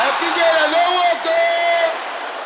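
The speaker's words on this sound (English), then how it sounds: "Can I hear you shouting it loud?" A church congregation at a prayer gathering shouting a prayer together loudly, a sustained roaring mass of voices lasting a couple of seconds before easing off.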